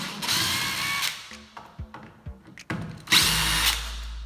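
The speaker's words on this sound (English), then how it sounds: "Grab my screw gun, I'm gonna take this plate off, the striker plate." Cordless screw gun backing two screws out of a metal door striker plate, with two loud bursts of high-pitched whirring separated by quieter clicks and clatter of handling in between.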